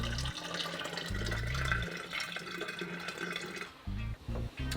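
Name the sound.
tea being poured into a hookah flask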